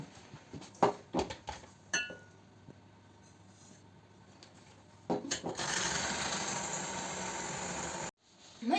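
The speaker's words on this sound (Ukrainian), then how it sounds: "Та перший збиваємо яйця з цукром." Eggs being beaten with sugar for a pumpkin pie batter: a few clinks and knocks of bowl and utensils, then an electric mixer whirs steadily for about three seconds before cutting off, close and fairly quiet.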